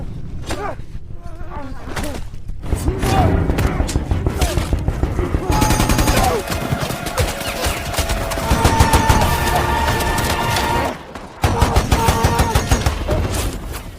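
Rapid bursts of gunfire in a chaotic Kingsman film fight scene, loud repeated shots and crashes layered over a dense action soundtrack with music, with a brief drop to near silence before the shooting resumes.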